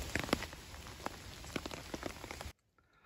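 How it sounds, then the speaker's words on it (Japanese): Steady rain falling outdoors during a mushroom-foraging outing, a dense close patter with scattered heavier drops that cuts off abruptly near the end, leaving quiet. "雨降ってるんで撤収します"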